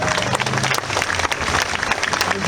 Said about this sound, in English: So let's have a round of applause for Longfellow.